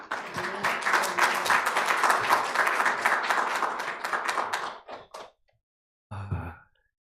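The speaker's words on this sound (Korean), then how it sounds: "귀한 말씀 전해주실 목사님 나오실 때 큰 박수로 맞이하겠습니다." A church congregation at a Korean Presbyterian Sunday service applauds the pastor: loud, crisp clapping from many hands that tapers off around five seconds, followed after a short silence by a brief muffled thud and rustle.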